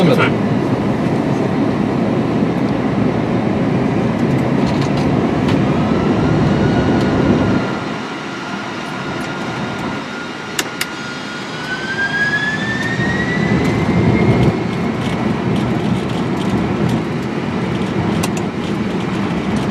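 Aircraft jet engines roar loudly during a takeoff roll on a runway in Antarctica, a broad rushing thunder that dips briefly midway and then builds again, with a rising whine and radio voices over it.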